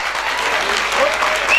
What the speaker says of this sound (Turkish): alkışlar eşliğinde uğurlayalım zafirlerimizi